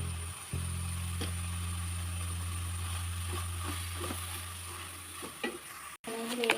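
Chicken frying with onion and tomato for biryani sizzles softly in the pan as it is stirred, with a low steady hum beneath and a few scraping clinks near the end.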